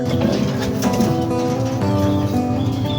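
Low, throaty racing pigeon cooing repeats close by over a busy, continuous background hum.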